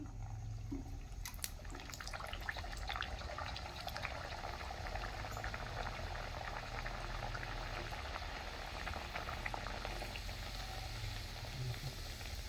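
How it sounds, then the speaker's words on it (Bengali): Coriander-leaf kachori deep frying in hot oil gives a steady, dense sizzle and bubbling that stays even and continuous throughout, with no voices. "এই দেখুন এইভাবে আমি আর কয়টা আছে ভেজে নিচ্ছি"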